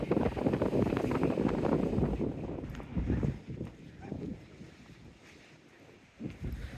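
Wind gusts along a seafront and buffets the microphone with loud, rough rumbling. The gusts ease and return in surges during a walk, and a few faint footsteps and other sounds come through in the lulls.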